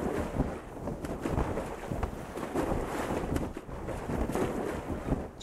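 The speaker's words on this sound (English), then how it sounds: "let's drive the boat" Boat engine driven across open water in the survival game Sunkenland, a steady broadband rumble with wind-like rushing and splashing, loud and continuous throughout with no speech.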